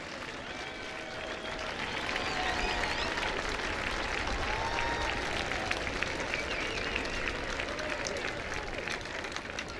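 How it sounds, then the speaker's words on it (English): A stadium crowd at a women's college soccer match rises in a standing ovation, sustained distant clapping and cheering that swells and holds, with faint whistles and calls mixed in. "Standing ovation from the crowd."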